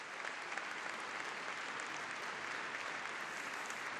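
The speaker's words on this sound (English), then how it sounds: "Roman leading the applause down by the kiss and cry" Arena crowd at the European ice dance championships in Kaunas applauds after a rhythm dance, a dense, even wash of clapping that continues without pause.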